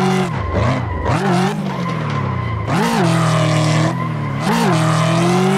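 Tires squeal loudly and continuously as a Mustang GT drifts along a California road in the Assetto Corsa racing game, with the engine note rising and falling under the screech and no talking.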